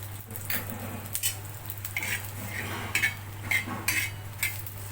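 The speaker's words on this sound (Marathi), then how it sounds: "आता मी हे धने भाजून घेणार आहे त्याच्यामध्ये हे थोडंसं तेल टाकून घेणार आहे" Coriander seeds dry-roasting with a little oil in a pan, heard as repeated metal spoon scrapes and clinks against the pan over a low steady hum, with no voices.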